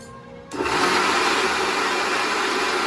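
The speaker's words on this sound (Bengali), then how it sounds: "দুধ দেওয়ার পর এটাকে সুন্দরভাবে আবার মিক্সি করে নেবো" A mixer grinder switches on and whirs loudly as it blends Oreo biscuits with milk. After a brief quiet start, the motor roar holds steady and continuous.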